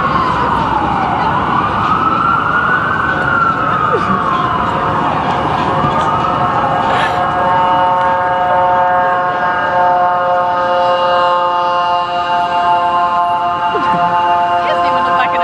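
Police siren on a car moving through city traffic, wailing loud and close, sweeping up and down before settling into steady tones over road noise.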